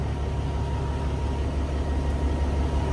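A truck with big 15-inch exhaust stacks idles at an auction, giving a steady, loud low rumble that holds evenly throughout with no voices over it.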